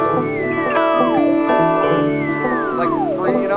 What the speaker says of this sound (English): Univibe sounds like this.